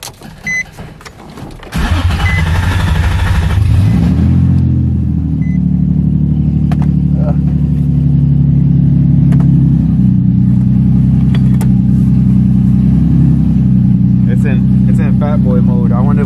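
A car with a VQ35DE engine and no hood fires up and settles into a loud, close rumbling idle, the engine note rising and falling in a few revs, with some brief chatter at the start.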